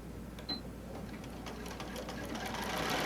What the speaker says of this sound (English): we're just going to sew down the one side of the handle